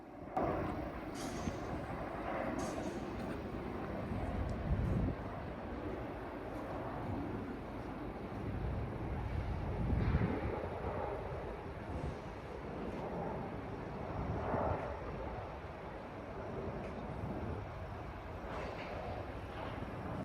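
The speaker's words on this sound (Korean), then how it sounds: "비행기 소음이 얼마나 큰지 들어보도록 하겠습니다." An airplane passes overhead near an active construction site, where a parking lot is set to become a high school. A loud, steady broadband rumble swells and fades slightly across the whole stretch, with no talking.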